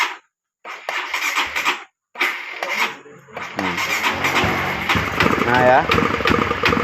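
Honda CB150R motorcycle engine being started with the throttle twisted, cranking and catching into a rough mid-pitched running note that rises and wavers, with people talking nearby throughout.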